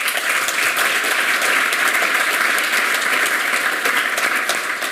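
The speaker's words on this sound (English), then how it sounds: "A round of applause for our panel." Conference audience applause for a panel at a hydrogen industry event, a loud continuous sheet of clapping from a sizeable crowd, sustained evenly throughout.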